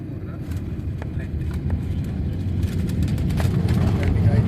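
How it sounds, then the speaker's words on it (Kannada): An airplane landing at Bhubaneswar airport, heard from inside the cabin as a steady, loud low engine and airflow roar that builds slightly throughout, with faint clicks and rattles on top. "ಭುವನೇಶ್ವರದ ಏರ್ಪೋರ್ಟಿಗೆ ವಿಮಾನ ಲ್ಯಾಂಡಿಂಗ್ ಆಗ್ತಾ ಇದೆ."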